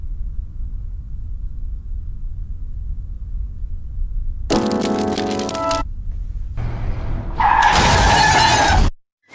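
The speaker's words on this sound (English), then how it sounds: "if you guys heard that car screech in the beginning or that car crash" A sound-effect sequence: a loud crash with shattering and breaking debris, followed by a sharp, bright screech of car tires that cuts off abruptly.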